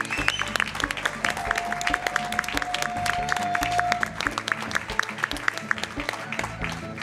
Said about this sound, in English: Can we get a cheer for Nashlax, please